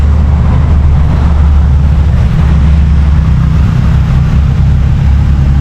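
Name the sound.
wind blowing on microphone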